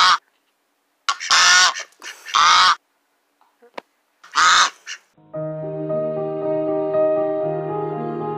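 A goose honking in a video game, several loud, harsh honks in quick bursts, followed by a sustained tonal musical jingle.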